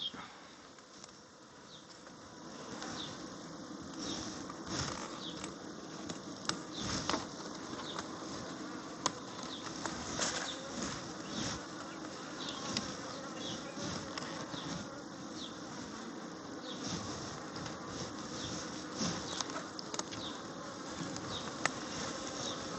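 Honeybees buzz in a dense, steady drone from an open Kenyan top-bar hive during an inspection, a close continuous hum with brief louder swells as individual bees fly near.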